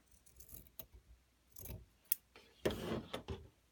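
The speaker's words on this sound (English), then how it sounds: "cut it apart, lay it on a ruler, and at the 9-inch mark," Scissors snipping through a strip of fabric for a rag heart wreath, quiet close-up clicks and a few soft cutting strokes with short pauses between them.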